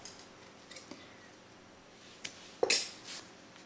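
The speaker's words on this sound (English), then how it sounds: "then I'll cut this yarn" Scissors snip through crochet yarn, a single crisp metallic cut near the end after a few soft handling clicks, close and fairly quiet.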